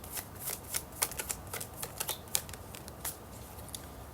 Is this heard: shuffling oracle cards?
yes